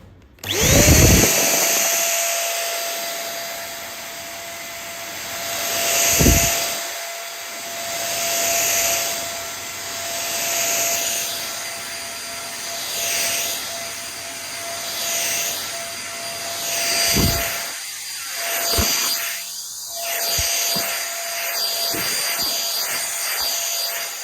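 A DYNOVA DV-220 handheld vacuum cleaner switches on and runs steadily with a high, constant motor whine, close and loud, with the pitch and airflow surging as it moves over surfaces.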